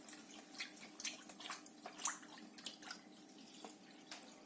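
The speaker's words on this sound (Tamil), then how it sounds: "பால் விட்டுட்டேன் 500 மில்லி லிட்டர்" Milk, 500 ml, is poured into a bowl while making a layered dessert, giving a soft, continuous trickling and splashing that stays faint and close, with no voices.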